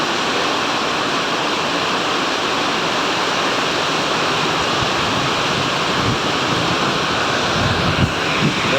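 Very heavy rain pours down in a dense, steady roar, loud and unbroken throughout, with no voices.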